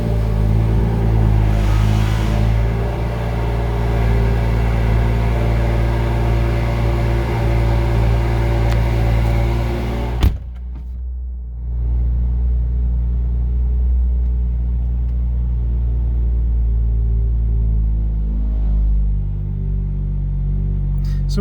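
Cold start of a 2016 BMW M2 with an M Performance exhaust in stock mode: a loud engine roar that settles into a steady idle, then a sudden drop to a deep, quieter rumble with a faint vibration.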